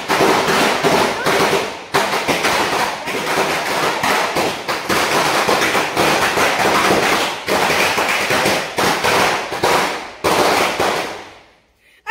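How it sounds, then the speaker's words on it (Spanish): Rapid strings of firecrackers crackle and pop continuously during a family serenade at dawn, dense sharp bursts going off one after another for several seconds before cutting out. "¿Será que nos despierta con los cohetes?"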